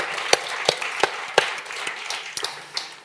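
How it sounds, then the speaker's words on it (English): A few people at an evening award ceremony at the IMPAKT Festival clap slowly and unevenly, with sharp, separate claps spaced roughly a third of a second apart over a low room hush. "I want an applause."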